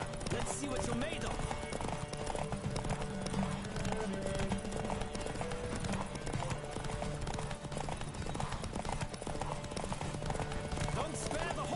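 In The Witcher 3, a horse gallops in a race with a steady, rapid clip-clop of hooves under game sound and voices.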